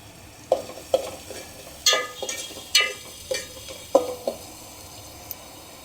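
Onions being sautéed in oil over a high flame for a Gujarati leftover-roti snack, with sharp stirring scrapes and clatters roughly every half second over a soft steady sizzle, close by.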